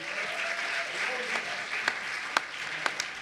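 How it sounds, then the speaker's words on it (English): An audience at a community forum gives a speaker a round of applause, a soft, distant patter of many hands with a few sharper claps standing out near the end and faint voices underneath. "I'd ask you to please give a round of applause to Francisco Ugarte."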